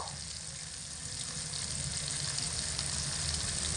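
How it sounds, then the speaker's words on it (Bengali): Tomatoes cooked down in oil with spices for a vegetarian potato dish in gram-flour gravy fry in a pan, giving a steady, close sizzle that swells slightly partway through, with no talking. "তেলের মধ্যে রেখে টমেটোগুলোকে খুব ভালো করে ভাজার ফলে টমেটোগুলো একদম গলে গেছে"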